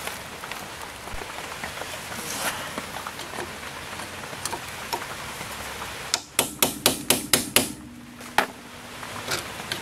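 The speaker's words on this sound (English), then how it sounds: "You just take your channel locks and you pop this cap off." A wheel hub dust cap on a car is pried off with channel locks, heard as a quick burst of about six sharp metallic clicks and knocks close by, after quieter background rattling.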